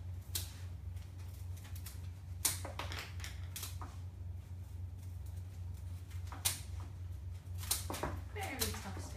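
Tough lilac bouquet stems are cut into a bin with scissors or secateurs, giving several crisp snips and clicks at irregular intervals over a steady low background hum.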